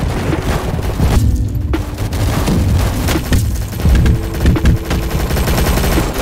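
A grenade going off amid a battle in the Roblox war game Rolling Thunder: loud rumbling booms mixed with rapid machine-gun fire, continuous and dense throughout.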